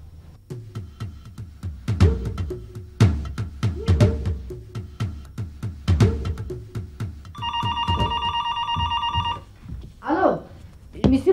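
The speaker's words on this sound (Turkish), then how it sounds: "Eyvah telefon çalıyor." A telephone rings in a 1995 Turkish comedy sketch: one sustained, bright electronic ring burst amid clattering objects and lively voices talking before and after it.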